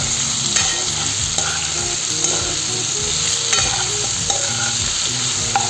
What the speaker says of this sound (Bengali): এবার টমেটো দিব, দিয়ে কিছু সময় আবার ভেজে নেব।